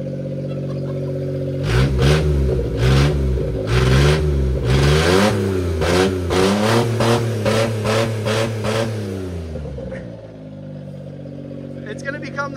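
Suzuki Carry engine revved hard several times in quick succession, loud and close, each rev rising and falling in pitch before dropping back to idle; voices talk over it.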